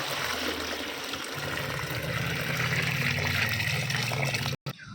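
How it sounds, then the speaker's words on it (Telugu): Water poured into a container of vegetable peels for a homemade plant tonic, a steady close trickle and gurgle that cuts off sharply near the end. "వాటర్ యాడ్ చేద్దాం"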